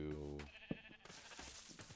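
A sheep in Minecraft gives a short bleat over quiet background game sounds, with faint talking.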